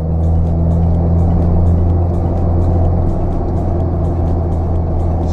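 A manual car climbs a curving uphill highway, its engine a loud, steady, close drone under continuous acceleration with constant cabin rumble and no voices.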